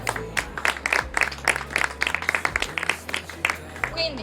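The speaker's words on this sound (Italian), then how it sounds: "Un applauso soprattutto a loro." An audience at a thank-you event in the Riviera del Brenta applauds with scattered, uneven hand claps that fill the few seconds, moderately loud and close, with no voices on top.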